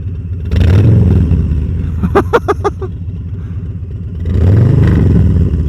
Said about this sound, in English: Check this out. I'm gonna rev it a bit.